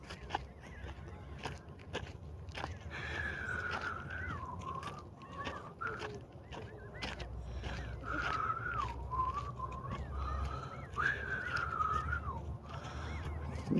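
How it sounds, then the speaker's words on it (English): Several birds call in a series of wavering, whistle-like cries over a faint outdoor background, loud and fairly near, with no talking. "Birds."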